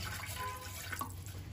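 Water being poured from a cup into a pot while an herbal milk decoction is prepared, a short steady liquid splash heard close and alone.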